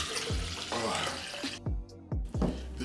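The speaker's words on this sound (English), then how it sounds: "Let me pour some more beverage here." Iced tea poured into a cup, several short splashing pours with gurgles and brief gaps between them, heard close up and fairly quiet.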